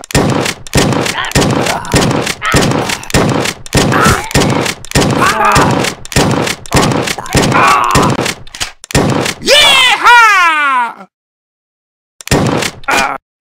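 A double-barrel shotgun fires in the zombie-shooting game Redneck vs Zombies: a rapid run of loud, punchy blasts, then a descending whistling tone, a brief silence and a final burst.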